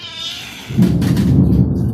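Thunder during heavy rain rolls in as a loud low rumble after a brief higher cry, filling the rest of the short moment without any talk.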